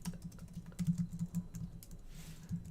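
Quick, light keystrokes on a computer keyboard, a busy run of close clicks with short pauses, typed alone with no voices over it.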